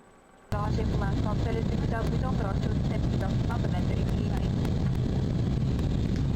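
Inside an airplane cabin during landing with flaps going down, a loud steady engine and airflow roar kicks in abruptly and holds, with a person talking over it.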